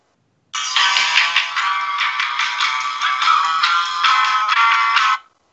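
A short song snippet plays back through a small phone speaker, thin and bright with no low end, running steadily for about five seconds before cutting off, with no talking over it.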